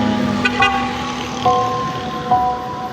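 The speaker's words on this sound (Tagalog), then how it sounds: "yung mga dumadaan dito, yan mapapansin nyo, lagi silang bumubusina" Car horns toot repeatedly as vehicles pass a balete tree in Mabitac, Laguna, over road traffic, with short bursts from more than one vehicle nearby.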